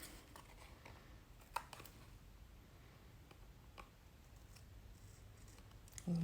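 Scissors trimming paper for a junk journal, a few faint, sparse snips and small clicks against a quiet indoor background.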